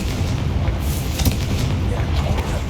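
A Confringo spell blast in the Hogwarts Legacy video game, a dense, booming explosive rumble with a sharper crack near the middle, loud and sustained throughout.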